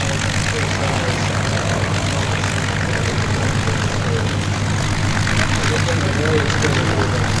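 A Corsair propeller aircraft flies at an airshow, giving a loud, steady engine and propeller roar that holds unbroken throughout, with possible voices under it.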